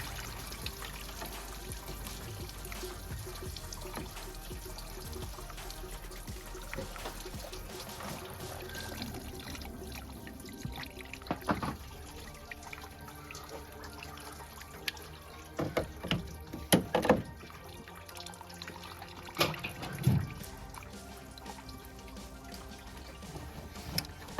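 Engine oil drains out of a Ford Fiesta during an oil and filter change, a steady close trickle and dribble of liquid running throughout with occasional louder splashes and knocks.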